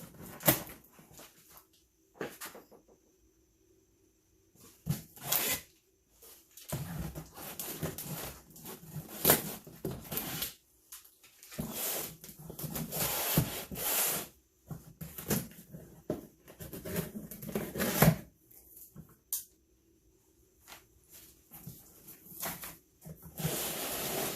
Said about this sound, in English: as soon as I open the box